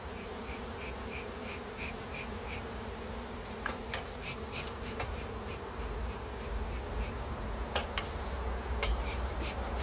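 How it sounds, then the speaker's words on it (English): Honey bees buzz around an open hive during a honey harvest, a steady close hum with individual insects droning past, accompanied by occasional faint clicks and taps. "Let me do what I can to get these girls to go back down in the hive or go airborne or something."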